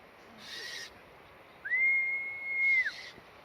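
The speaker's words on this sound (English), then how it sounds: "Can you see how immediate it is when the whistle is heard?" A keeper's feeding whistle for owls: one long, steady, high-pitched tone, loud and close, with no talking.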